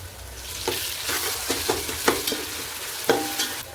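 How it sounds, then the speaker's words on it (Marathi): Tomatoes cooking in oil with ginger garlic paste give a soft sizzle, broken by repeated brief stirring scrapes in an irregular rhythm, close and fairly quiet, with no talking. "टोमॅटो चांगला मऊ होईपर्यंत तेलामध्ये शिजून घेऊयात. 1 चमचा आलं लसूण पेस्ट,"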